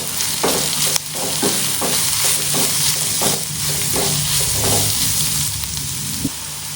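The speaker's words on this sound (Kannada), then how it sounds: "ಚೆನ್ನಾಗಿ ಫ್ರೈ ಮಾಡ್ಕೊಳ್ಳಿ ಇದನ್ನು. ಈರುಳ್ಳಿ ಮತ್ತು ಕ್ಯಾಪ್ಸಿಕಮ್ ಚೆನ್ನಾಗಿ ಫ್ರೈ ಆಗಿದೆ." Onion, capsicum and soya chunks fry with pepper powder in a pan, a constant close sizzle punctuated by a regular series of scraping stirs, with no talking.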